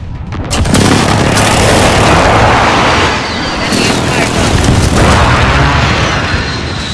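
A very loud air strike explodes in Call of Duty: Modern Warfare, with a sudden blast swelling into a sustained, roaring rumble that dips briefly and then surges again with a second wave of impact.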